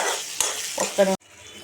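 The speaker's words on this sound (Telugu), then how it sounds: "నెక్స్ట్ క్యాప్సికమ్ కొద్దిగా ఫ్రై చేసుకోవాలి" Onion, curry leaves and capsicum frying in a pan, a short close sizzle with a couple of spatula scrapes and a faint clink before cutting off abruptly.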